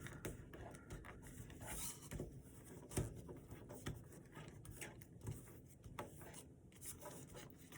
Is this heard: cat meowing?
no